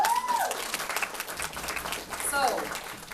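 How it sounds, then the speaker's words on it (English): An audience at a KCON fan panel claps and applauds, a dense spread of hand claps filling the room while a voice speaks over it. "So round of applause."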